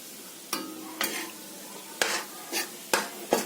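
Maida flour fries in ghee among already-fried lentils for malai laddu, a soft sizzle punctuated by about six distinct scraping stirs of a spoon against the pan, close and fairly quiet.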